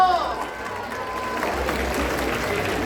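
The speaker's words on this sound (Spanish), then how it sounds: "Aplauso para los caballeros." At a clown show, an audience breaks into loud, steady applause with crowd cheering, a dense clapping wash filling the room for a few seconds.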